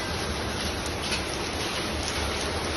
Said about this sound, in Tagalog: Tignan nyo naman kung gaano kalakas yung ulan.